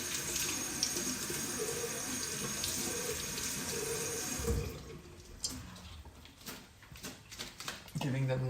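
Tap water runs loudly into a sink as spring onions are washed under it, a dense rushing stream that breaks into splashy, uneven spatters toward the end.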